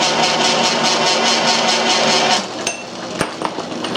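A Garvin lathe switched on and running, a loud steady mechanical whir with a rhythmic pulsing beat for about two seconds, then quieter running with a couple of sharp metallic clinks.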